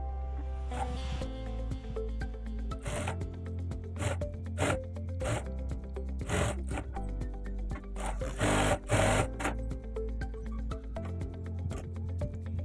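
A domestic sewing machine stitches a strip piece onto blouse fabric, running in bursts of rapid rattling stitches with short pauses between, close and steady with no talk.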